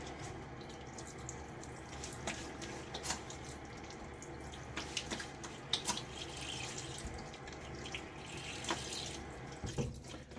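A faucet runs steadily into a sink, with splashing and dripping as hands scoop water to wet the face before a wet shave, close by and without any talking.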